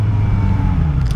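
A motorcycle rides steadily along a road, its engine droning as a continuous low rumble that stays close and loud for the whole moment with no talking.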